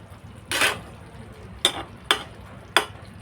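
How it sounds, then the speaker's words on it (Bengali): Raw small Boroli fish curry being stirred in a pan, a longer scrape followed by three short sharp scraping strokes, fairly close over a quiet background. "একটু নাড়াচাড়া করে আবারও ঢেকে দিচ্ছি।"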